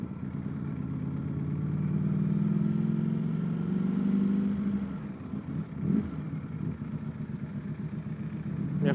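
A 2024 Ducati Streetfighter V4S with its L-shaped four-cylinder V4 engine runs on the road, a steady close low rumble that holds, dips briefly around a shift or slowdown, then picks back up.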